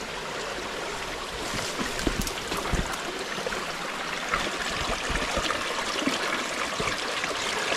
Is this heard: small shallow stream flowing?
yes